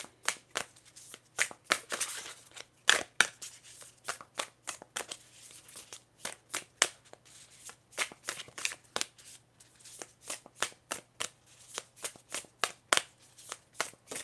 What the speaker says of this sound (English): I'm just going to shuffle my cards